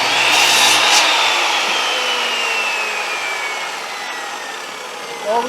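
A hand saw cuts through wood pieces to length with a steady, loud rasping stroke that fades slightly toward the end, close up and without talk.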